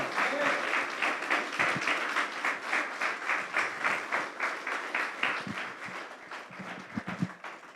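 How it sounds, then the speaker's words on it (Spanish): A church congregation claps together in a service, dense applause with a pulsing, roughly rhythmic beat, loud and close, thinning out toward the end with a few scattered claps and voices. "dale un fuerte aplauso a Jesús"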